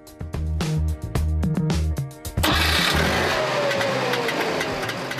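A Trabant's small 0.6-liter two-cylinder two-stroke engine runs with a choppy, uneven putter, then surges into a louder, rougher roar as it revs up.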